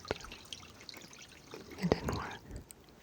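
Water from a homemade hydroponic pump trickles and splashes into a net cup, a quiet steady dribble with a couple of sharper splashing bursts near the middle.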